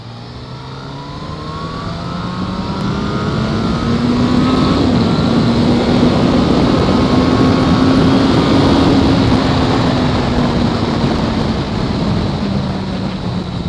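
A Yamaha Fazer8 (FZ8S) motorcycle accelerates on the road, its engine note climbing and then holding steady, loud and continuous under heavy wind rush with no talking.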